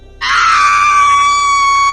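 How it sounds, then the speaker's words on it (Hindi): A witch in a Hindi horror story lets out one loud, sustained scream, a piercing high wail that starts suddenly and holds steady for nearly two seconds. "चुड़ैल जोर जोर से चीखने लगी।"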